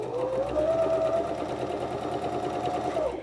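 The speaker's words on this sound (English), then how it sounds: "line up the edge of the fabric with the edge of the presser foot like this. And we're just gonna start stitching." A sewing machine stitches straight forward along a fabric edge at steady speed, a continuous close mechanical whir with rapid needle ticking and no pauses, loud and alone.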